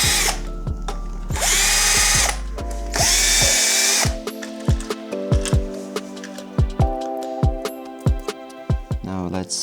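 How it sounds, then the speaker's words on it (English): A power drill or driver whines loudly in three long bursts, backing out the fender screws on a Nanrobot LS7+ electric scooter. Clicks and light metallic taps follow as the parts are handled, with short pauses between them. "Now let's remove the fender screws."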